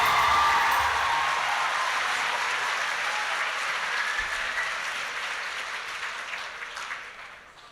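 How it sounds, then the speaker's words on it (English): An audience applauds at a high school male pageant: a dense, even wash of clapping starts at full strength, then slowly thins and fades over several seconds. "Let's give all of our beach boys a big round of applause."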